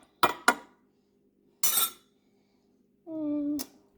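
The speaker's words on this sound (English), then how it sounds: "Stir it up." A spoon stirring iced coffee in a glass makes two quick clinks, then a scraping rattle, and finally a ringing tap with a short sustained tone, all close and clear in otherwise quiet surroundings.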